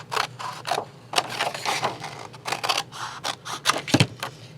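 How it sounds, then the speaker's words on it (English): Scissors snip steadily through paper while cutting out a fish-story page cover, a close series of quick crisp cuts and rustles in an uneven rhythm. "all I'm going to do is take my scissors, and as I cut it out"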